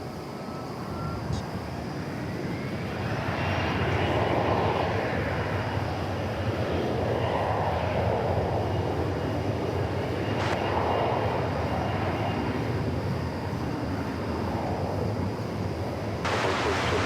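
An airplane takes off at DFW Airport. A loud, sustained jet engine roar swells and rolls for the whole stretch, with faint radio-like voices underneath.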